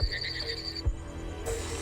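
Frogs call faintly at night in Kakadu during the wet season, a few soft croaks and trills scattered over a quiet, steady insect-filled background.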